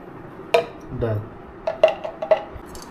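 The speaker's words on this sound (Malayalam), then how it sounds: "ഈ ബാക്കി സവാള കൂടെ അങ്ങനെ കട്ട് ചെയ്തെടുക്കും" A knife chops onions on a board in a home kitchen, a few distinct sharp knocks and clinks spaced irregularly, with quiet murmured voices between them.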